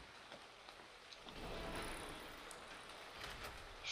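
Steady rain hisses across the landscape of ARK: Survival Evolved, a soft, even wash of falling drops that swells slightly partway through and carries on without a break, with no voices.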